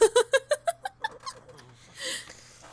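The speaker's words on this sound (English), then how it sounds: "You're just purring, aren't you? You're purring." A pet cat purrs while being held, a quick run of about six rhythmic, close breathy pulses that fade, then a softer breathy sound.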